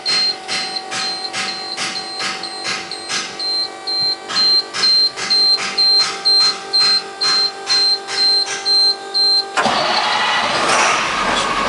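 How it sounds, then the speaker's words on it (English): A commercial truck's engine starts while a regular clicking or beeping warning pattern repeats, and then it settles into a loud, steady idle running alone. "my engine started,"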